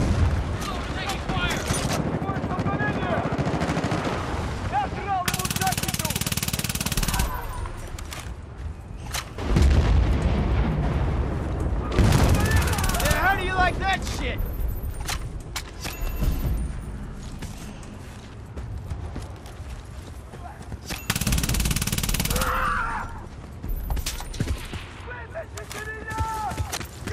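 Gunfire and heavy booms from a Battlefield Bad Company 2 beta match, loud repeated bursts and explosions at close range, with shouted voices between and over the shooting.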